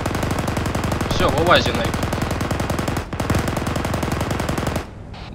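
Rapid machine-gun bursts in a video game, sustained and loud for about five seconds, with one brief pause around the middle before stopping near the end; someone speaks briefly over the firing.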